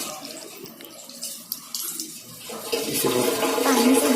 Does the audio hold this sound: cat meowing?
no